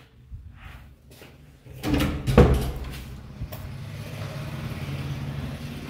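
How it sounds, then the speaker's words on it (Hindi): A door in a newly built house swings shut with a single loud thud, followed by a low, steady rumble of room noise, with no voices. "इस दरवाज़े को हम बंद कर देते हैं"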